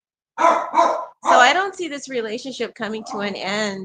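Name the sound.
dog barking, excited by gardeners outside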